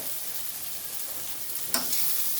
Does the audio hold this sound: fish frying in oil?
yes